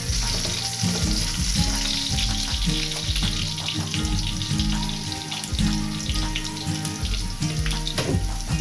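Ginger fries in a pan for fish and ground pork adobo, a loud, continuous close sizzle with light stirring scrapes and occasional clatter; no talking.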